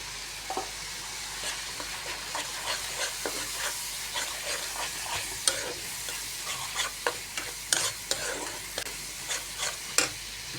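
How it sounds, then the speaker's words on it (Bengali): A spice paste of ground coriander, garlic, cumin and turmeric sautés in a pan for fish curry, with a steady close sizzle broken by frequent scraping stirs and spatula clicks throughout. "মশলাটা কষানো হয়ে গেছে"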